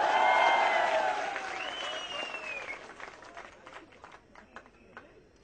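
Audience applause at a Hindi speech event, loud and dense at the start, then thinning into scattered claps over a few seconds, with a voice speaking over the opening.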